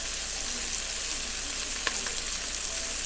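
Garlic, onions, scallions, poblano and red pepper frying in a pot, a steady close hiss of sizzling with faint stirring clicks.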